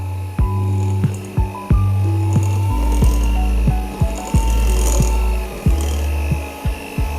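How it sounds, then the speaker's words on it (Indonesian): A handheld electric mixer running at low speed whirs steadily as it blends brownie batter in a bowl, loud and close, with repeated knocking clicks as the beaters hit the bowl. "Tapi saya menggunakan mixer ya. Kecepatan rendah ya."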